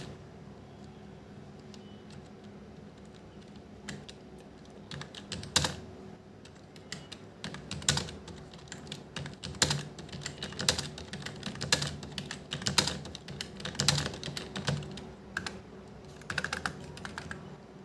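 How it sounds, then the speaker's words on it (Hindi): Hindi words are typed on a computer keyboard: quiet, irregular clusters of key clicks with short pauses between words, close and low in level over a faint steady hum. "डॉ टाइप करेंगे, ठीक है।"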